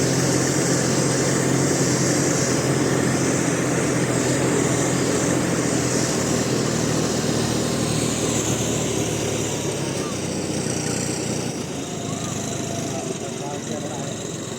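A tractor engine drones loudly and continuously on the ride up to the Nilkantheshwar temple near Panshet, Pune, with a steady heavy hum throughout and a voice talking over it.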